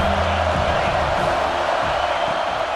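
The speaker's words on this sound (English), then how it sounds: "how nice is it to have the home crowd going absolutely bananas?" Home crowd in the College Football 26 video game roaring as a dense, steady wall of cheering noise throughout, with faint commentary beneath.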